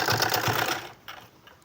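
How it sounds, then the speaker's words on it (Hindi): Sewing machine running fast as it stitches over an existing seam to attach lace to a cutwork suit sleeve, a loud rapid needle patter close by that slows and fades into softer intermittent clicks. "तो उसी सिलाई के ऊपर हमने सिलाई लगानी है"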